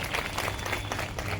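Applause from an audience at a beneficiary conference rally in Ashoknagar: a dense, steady wash of many hands clapping together, filling the short moment without a break.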